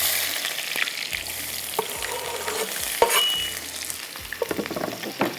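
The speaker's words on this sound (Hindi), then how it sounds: "अब टमाटर रखते हैं यहाँ पर और इसके अंदर जाएगा ये हमारा 2 अदद कटे हुए प्याज" Tomatoes and two chopped onions sizzle and fry in a hot pan, a loud, dense crackle punctuated by stirring scrapes and clanks, with no talking.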